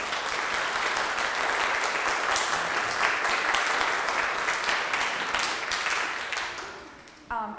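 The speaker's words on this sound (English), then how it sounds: "Let's give a round of applause to everyone who played today." An audience at a summer music recital applauds the performers steadily for several seconds, a dense wash of clapping that fades slightly near the end.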